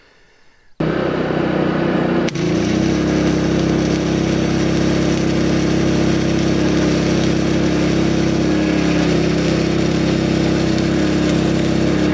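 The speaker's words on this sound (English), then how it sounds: "I got my generator and my little inverter 120 like flux-core MIG welder." A portable generator powering a small 120-volt inverter flux-core MIG welder starts up and runs loud and steady, a constant engine drone after a short quiet opening.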